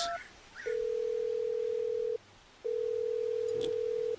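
A phone in the horror video game Mitnal rings out with two long steady electronic tones separated by a short gap, near and clear, with faint background noise and no talk over it.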